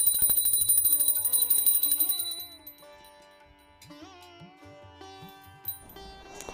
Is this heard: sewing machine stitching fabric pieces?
no